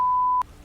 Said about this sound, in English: you gotta bleep out a lot